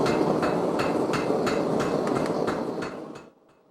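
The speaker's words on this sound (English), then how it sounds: "My power hammer, it takes care of all the heavy work." A blacksmith's power hammer forges metal with a steady run of loud, evenly spaced mechanical blows over a dense, droning shop roar. It stops abruptly near the end.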